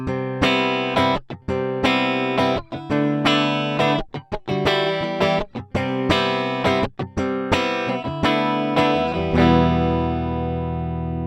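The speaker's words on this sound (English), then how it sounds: "I pulled out the electric guitar." Electric guitar chords played direct with no effects, compression off, strummed in a steady rhythm with a clean, bright tone, then a final chord left ringing out.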